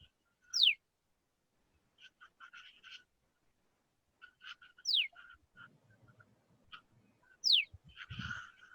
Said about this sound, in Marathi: I have included few bird sounds that are commonly heard all around us.